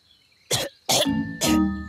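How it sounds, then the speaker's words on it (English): Three separate harsh coughs from a cartoon character, close and loud, spaced about half a second apart, with a brief throaty rasp after the later ones. "Gaston's coughing."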